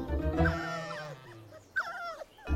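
Dogs in a children's cartoon make brief whimpering, yipping cries, two short bursts with a quieter gap between, fairly close and faint, with no talk.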